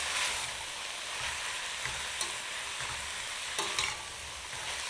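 Patchoi greens get stirred in a hot pan over medium heat, a gentle sizzle running throughout with a few soft scraping and clinking strokes, close and quiet.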